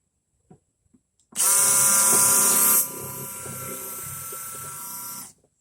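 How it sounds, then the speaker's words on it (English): A small power drill bores a small hole, whirring loudly for about four seconds, its high-pitched whine dropping in tone partway through, then cutting off abruptly. "So I got my drill ready. We're gonna drill my little hole right here."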